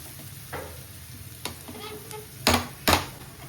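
Pickle frying on a low flame gives a steady close sizzle, broken by several sharp stirring scrapes and clinks of a spoon against the pan, with no talk.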